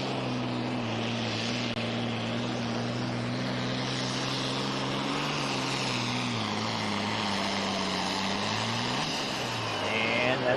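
A 10,000 pound Pro Farm tractor makes a pulling run at a tractor pull, its engine a loud, sustained droning roar whose pitch shifts slightly as the run goes on. A crowd or announcer murmurs faintly underneath.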